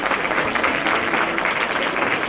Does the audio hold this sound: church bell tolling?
no